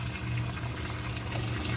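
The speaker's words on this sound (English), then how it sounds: "I've stuck it in here as far as I can, and I'm just pumping the water out" Submersible pump drawing water out of an aquaponic sump, a loud, steady rushing and gurgling wash of water that runs unbroken and close up, with no voices.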